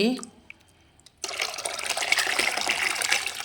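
Liquid sloshing and swirling as fermented banana and beetroot liquid fertilizer is stirred in a container, starting abruptly after a quiet moment with a brief voice, then continuing as a steady close wet churning.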